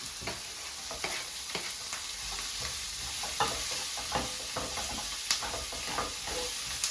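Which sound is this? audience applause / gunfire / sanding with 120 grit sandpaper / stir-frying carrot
stir-frying carrot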